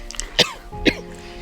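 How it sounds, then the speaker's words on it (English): Two short coughs, close by, about half a second apart, with a faint background hum. "And I cough uncontrollably"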